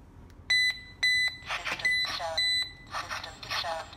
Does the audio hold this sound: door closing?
no